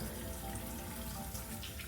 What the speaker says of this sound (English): I am going to wash my hands like always after handling the chicken. Soap and water. Make sure you use hot water.